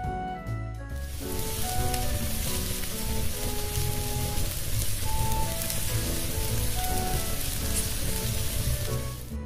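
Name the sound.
onions sautéing in a pan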